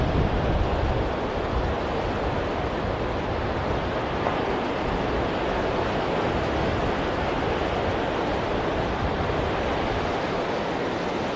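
Sea waves wash onto the beach at Side in Turkey on a rough April day, a steady, dense roar of surf with wind, continuous and fairly close, with no voices.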